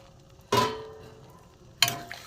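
Bombay duck (lote fish) fritters dropped into a simmering potato curry in a pan, giving two short bursts of splash and sizzle, the first louder, then a quieter bubbling between them.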